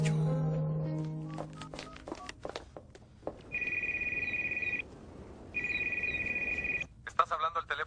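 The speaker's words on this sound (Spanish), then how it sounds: "Estás hablando al teléfono del doctor Ignacio Reyes" A telephone rings in two long electronic bursts separated by a short pause, clear and fairly close, after some earlier scattered sounds, in a Spanish-language drama scene.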